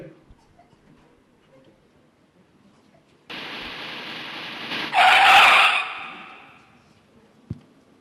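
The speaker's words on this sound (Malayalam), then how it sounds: "എടി കാറ് വന്ന് നിൽക്കുന്ന ഒരു ശബ്ദം കേട്ടല്ലോ" A vehicle rolls in with rising road and tire noise, then a loud brief screech of brakes as it stops, followed by quiet and a single thump.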